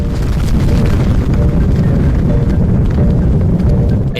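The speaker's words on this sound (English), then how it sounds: "The explosion was 100 times more powerful than Hiroshima." The Tunguska explosion over the Siberian sky, a massive airburst, rendered as a deep, sustained rumbling boom that fills the whole stretch at steady high loudness with no voices.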